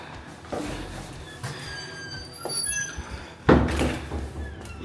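A door opening inside a Hong Kong residential building, with a few dull thuds and a louder clunk of the door moving, a faint squeak and hollow indoor reverberation.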